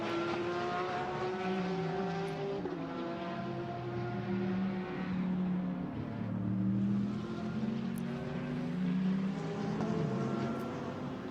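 A GT race car at the Nürburgring drives through corners and over a crest, its engine droning and shifting pitch as it revs up and down, heard steadily at a moderate distance for several seconds.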